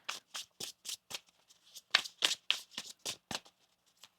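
Tarot cards are shuffled by hand in quick, crisp riffles, about a dozen distinct bursts in a steady rhythm, close and fairly quiet with no voice over them.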